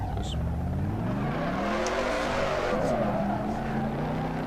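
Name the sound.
Dodge Charger engine and tire squeal in Assetto Corsa video game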